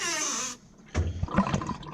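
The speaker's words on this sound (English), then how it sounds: "it like blasts water back on the windows when you're trying to rinse something off" Forceful water bursts from a pump-fed sink faucet in a converted school bus, a loud close rush for about half a second, then cuts off before clattering splashes and knocks.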